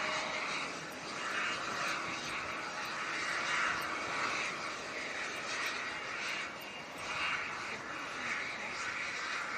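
An Emirates A380 airliner lands with a steady, moderately distant engine roar and broad rushing noise that swells and eases over several seconds; no talking.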